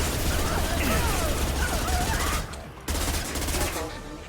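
Rapid automatic gunfire in the video game Mass Effect 2, a sustained loud fusillade with crackling impacts that dips briefly at about two and a half seconds before resuming, with a voice speaking over the shooting.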